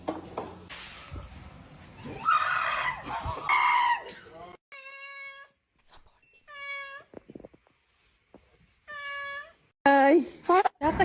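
A cat meows several times, drawn-out and plaintive, between bursts of excited human talk and squeals.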